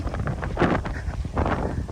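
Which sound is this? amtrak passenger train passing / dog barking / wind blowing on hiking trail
wind blowing on hiking trail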